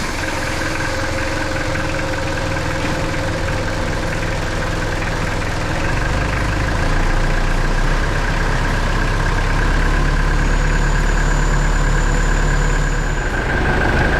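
A Mitsubishi L400 Delica van engine idles steadily for a long stretch, a low, constant rumble with a faint knocking texture and a slight rise near the end.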